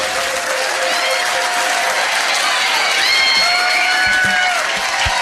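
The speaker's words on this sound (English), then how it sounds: "Give them a big round of applause." A pub quiz audience at The Yard breaks into loud, sustained applause with cheers and whoops for the winning team, a dense crowd roar close by that holds steady throughout.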